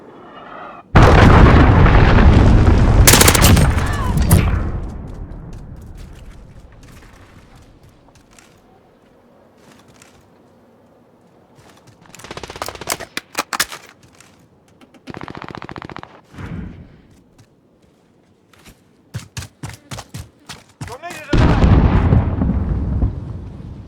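Cruise missile strikes and gunfire in a Modern Warfare multiplayer match on the Hovec Sawmill map: a loud roaring blast opens, then a long rumbling decay, followed by bursts of automatic gunfire and sharp shots, ending in another heavy explosion.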